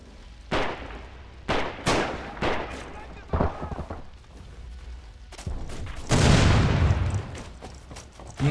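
Sharp rifle and cannon shots crack out one by one in Red Orchestra 2 with the Immersion Overhaul mod on the Myshkova River map, echoing over battlefield rumble. A heavy, sustained barrage erupts late, with faint voices in the background.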